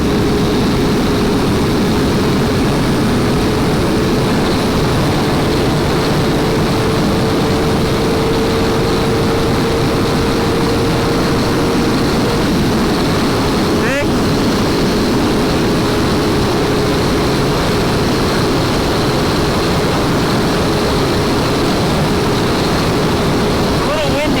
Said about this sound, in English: Fifth gear wide open.